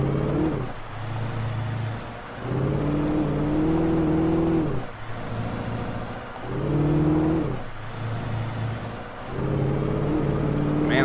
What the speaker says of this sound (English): Man, this truck sounds like it's dying.